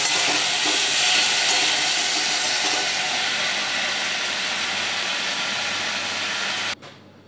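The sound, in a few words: turmeric-coated prawns frying in oil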